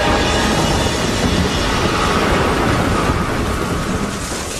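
A storm at sea roars with dense, steady rain and rumbling thunder, loud and continuous throughout without any voices.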